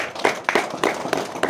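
Clapping from a worship gathering on New Year's Day, five or six sharp, evenly spaced claps in a steady rhythm, fairly close, over a light background murmur.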